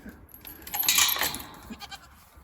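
A single goat bleats once, a short wavering cry close by, with quiet background noise around it.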